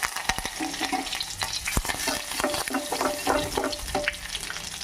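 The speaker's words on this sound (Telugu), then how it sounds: "దాంట్లోకి పచ్చిపప్పు, జీలకర్ర, ఆవాలు బాగా ఆగాలి" Chana dal, cumin and mustard seeds frying in hot oil in a pot, a close steady sizzle with sharp popping crackles and occasional scraping stirs.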